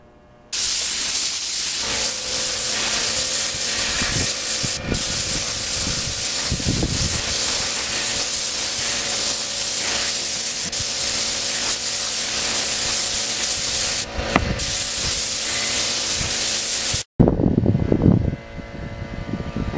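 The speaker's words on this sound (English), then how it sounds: "I sprayed this with very, very low pressure, just trying to get the coats on nice and even." A spray gun lays clear coat on FZR motorcycle parts at very low pressure, giving a loud, steady hiss that runs nearly unbroken for about seventeen seconds with brief pauses, then cuts off abruptly.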